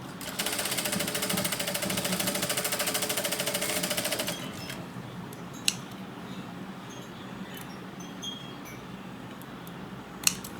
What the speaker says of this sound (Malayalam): മറിച്ചിട്ട് 2 വട്ടം സ്റ്റിച്ച് ചെയ്യണേ